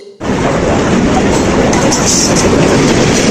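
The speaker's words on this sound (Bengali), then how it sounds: "কিছুক্ষণ অপেক্ষা করার পর ট্রেন শেষমেশ চলে আসলো।" Loud, steady rumble of a train pulling into a station in Rajshahi close by, with continuous rail noise and faint voices mixed underneath.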